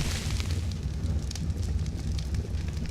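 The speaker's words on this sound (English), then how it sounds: "and light the fire" Forge fire in the game ARK, lit to smelt metal with wood, gives a steady low roaring crackle with dense rumbling and airy hiss throughout, continuous and fairly loud, no voices.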